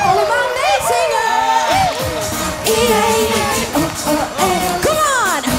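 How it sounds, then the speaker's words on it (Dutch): Children at a Sinterklaas club party cheer, whoop and shout loudly and continuously, with an excited crowd roar and occasional bangs over a sung or announced performance. "Geef ze een groot applaus."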